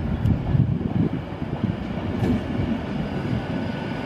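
A class 390 passenger train pulls out of Crewe station, bound for Manchester Piccadilly, with a steady loud rumble of wheels and running gear throughout and faint rail clicks and squeals, no talking.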